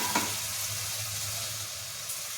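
Ginger paste and garlic sizzle in a hot pan, a steady close hiss of frying with a couple of brief stirring scrapes, no talking.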